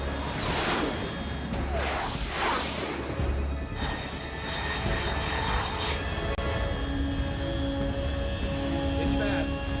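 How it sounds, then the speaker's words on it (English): Fast jet aircraft roaring past in Metal Gear Solid 3, a loud whooshing engine sweep near the start that settles into a sustained drone, with a radio-style voice speaking over it. "Unidentified aircraft detected."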